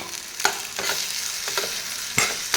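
Egg sizzling and frying with chopped okra in a hot pan, a steady bright crackle broken by a few scraping stirs of a spatula, close and clear with no voices.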